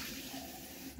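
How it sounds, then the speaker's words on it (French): Cold water runs from a tap while something is washed under it, a brief, soft, steady splashing rush close by with no speech. "Je lave à l'eau froide, ok."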